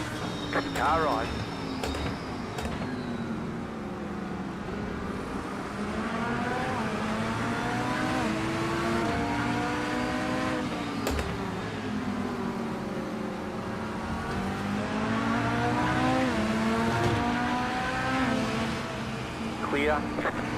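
A Lamborghini race car engine in the iRacing sim at Road America revs up and down through repeated gear changes, loud and close, with a driver talking over the engine.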